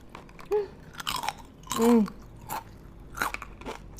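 Crunchy Indonesian peanut peyek cracker, a spicy chili variant, bitten and chewed up close, giving several short crisp crunches spaced across a few seconds with a brief voice sound in between.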